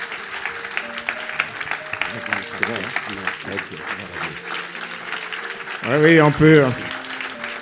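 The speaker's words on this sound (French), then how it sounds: "Est-ce que tu peux acclamer mieux que ça?" Church congregation applauding during a testimony service, a steady wash of clapping running under music and a voice speaking, swelling louder near the end.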